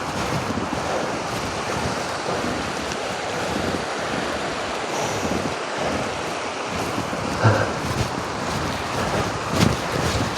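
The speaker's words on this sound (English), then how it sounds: "There's that other lovely waterfall there." Steady rushing water from a waterfall along a muddy hiking trail on the Irish East Highland Way, a broad continuous roar mixed with wind buffeting the microphone, no voices.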